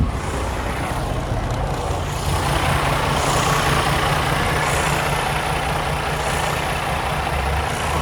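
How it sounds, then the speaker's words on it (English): A 2020 Freightliner Cascadia semi truck's DD15 diesel engine idles steadily nearby, a constant low rumble and clatter that holds unchanged throughout. "Let's go have a listen to this truck running."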